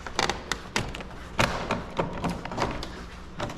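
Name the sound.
pulling off a 99-04 Mustang door panel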